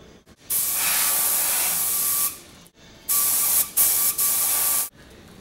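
An HVLP spray gun sprays paint onto a Wheel Horse tractor part, giving loud steady hisses in three or four long bursts separated by brief quiet gaps, close up with no talking.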